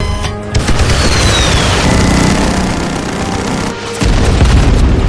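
Loud, dense bursts of rapid gunfire with booming blasts in a Jackie Chan action film, Vanguard, nearly continuous and close, with a brief lull before it resumes.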